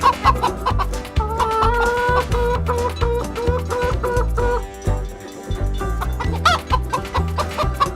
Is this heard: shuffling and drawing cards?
no